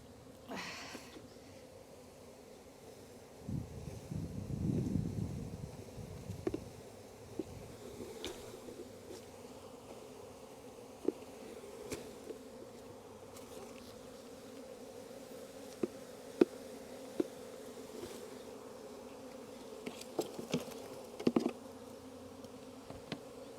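A honeybee swarm gathering near a tree hums with a steady, dense buzz from start to finish, with a louder low rumble around five seconds and a few sharp knocks scattered through the later part.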